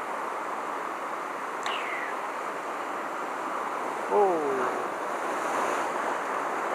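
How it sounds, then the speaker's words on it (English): Broad, steady roar of white water surf washing over rocks, with wind noise throughout and a brief swell near the middle; a few short faint calls or squeaks cut through above the rush, and no clear speech. "Oh. A lot of white water there."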